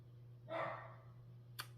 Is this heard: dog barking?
yes